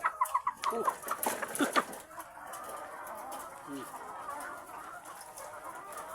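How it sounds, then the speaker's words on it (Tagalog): Several quick clucks from a chicken up close at the start, followed by quieter background murmur with an occasional soft bird call. "Malaki manok natin guys."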